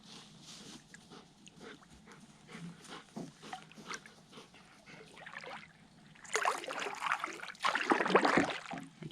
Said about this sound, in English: These are good doggies.